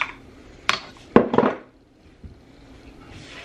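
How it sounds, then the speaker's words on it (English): Bacon grease scooped into a pan while cooking budget meals: a few clattering utensil knocks and scrapes against the pan in a short cluster, close and moderately loud, then near silence with one small tap. "So I'm going to just put a good dollop of bacon grease in there."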